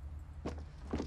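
Two dull, deep-sounding footsteps of an enemy player in Fortnite Battle Royale on mobile, spaced about half a second apart over a low steady game hum.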